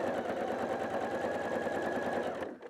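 A sewing machine stitches a quilt with a fast, steady mechanical whir and needle chatter that holds close and loud. It finishes with a short back stitch, then stops abruptly near the end.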